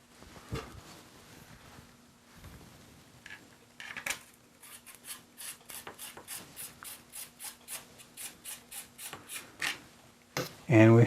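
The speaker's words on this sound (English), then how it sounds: "And we start sanding down" Rhythmic rasping strokes of sandpaper rubbing on an arrow shaft pushed through a hole in the paper, quick back-and-forth scrapes repeating steadily, close by with faint background noise.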